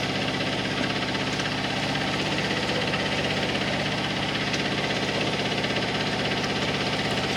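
A sailboat's engine drones steadily at idle, a low, even rumble with a faint knocking vibration running throughout, no voices.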